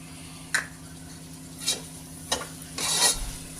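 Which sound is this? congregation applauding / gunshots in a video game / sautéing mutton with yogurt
sautéing mutton with yogurt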